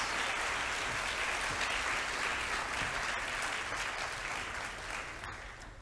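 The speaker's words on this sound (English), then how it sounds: "Can we have a round of applause for 7C, please?" Sustained applause from a large audience at a college assembly, steady dense clapping that gradually fades toward the end.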